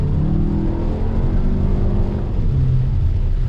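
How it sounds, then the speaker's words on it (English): A 2019 VW Arteon sedan pulling away from a traffic light on wet roads, heard from inside the cabin: a low, smooth engine rumble with gentle rising harmonics under steady road hum. "You do get a little bit of engine sound inside the car"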